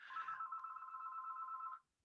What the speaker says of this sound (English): the phone just rang